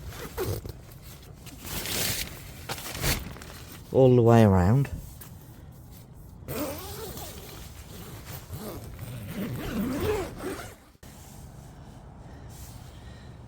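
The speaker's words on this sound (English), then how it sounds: "You can bring the zip up all the way" A zip on an OEX Bobcat 1 tent is drawn along in one quick rising run lasting about a second, loud and close, with someone talking before and after.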